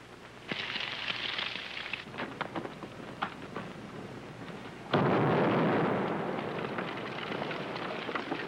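Gunfire from a 1939 Western about a range war: scattered sharp cracks give way to a sudden loud, broad blast that holds as a dense, rumbling roar until the end, with no talk.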